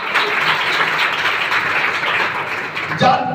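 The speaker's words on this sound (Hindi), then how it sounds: "सब ताली बताइए उसके जलाल के लिए।" A church congregation at a pastor's sermon breaks into brief sustained applause, many hands clapping together in a dense wash of sound.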